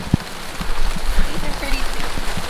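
Rain falls on Hawaii's Big Island, a dense steady patter on surfaces nearby, fairly loud and continuous, with brief voices and movement mixed in.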